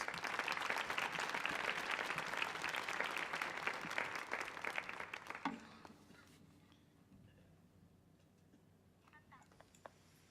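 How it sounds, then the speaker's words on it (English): Audience applause for musicians at a Millennium Stage concert, a full, loud burst of clapping that stops abruptly about halfway through and leaves a quiet room with faint scattered sounds. "Round of applause for these incredible musicians."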